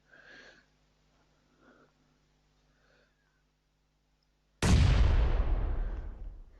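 A grenade detonates in a shooter video game, a sudden loud close blast that rolls into a long decaying rumble, preceded by a few faint breathy sniffs and quiet pauses.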